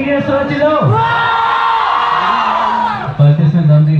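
College students at an open mic comedy event shout and cheer together, a loud sustained crowd roar with whoops that swells and then falls away as someone speaks into a microphone.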